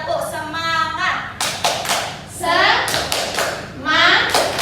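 Children in a classroom perform a 'tepuk semangat' clapping chant, with bursts of rhythmic hand claps and thumps alternating with loud group chanting voices.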